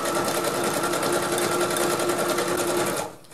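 A sewing machine runs steadily, stitching a plain straight seam through fabric for a small backpack, its fast even whir continuous and close before cutting off sharply near the end.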